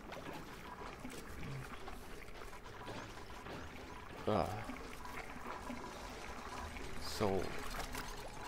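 Water pouring in the Oxygen Not Included video game, a steady liquid wash with two brief splashy bursts, low under someone talking.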